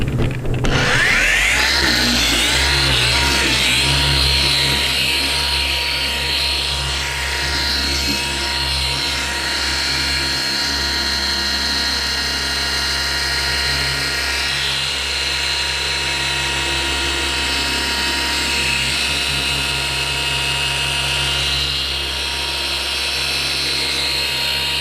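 A car polisher spins up during paint polishing and settles into a steady, continuous high whine with a low motor hum underneath, running alone for the whole stretch.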